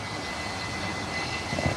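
A TUI Boeing Dreamliner jet passes overhead after departing Manchester, a steady distant engine roar with a slight swell near the end.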